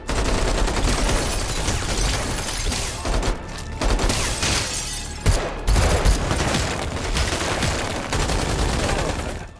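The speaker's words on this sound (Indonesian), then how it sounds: "Josefo dan para anak buahnya terus menembaki rumah itu dan berhasil membuat para pasukan khusus kewalahan" Gunfire rattles through a film shootout at a house: dense, loud bursts of automatic fire and sharp shots with brief lulls, continuing throughout with no speech.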